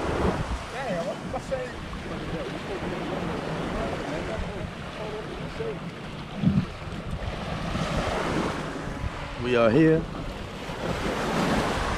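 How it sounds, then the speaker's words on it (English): Ocean surf breaking at the shore of a Dominican Republic island, a steady wash of waves mixed with wind buffeting the microphone, with people talking over it and a small boat nearby. "Beautiful waves."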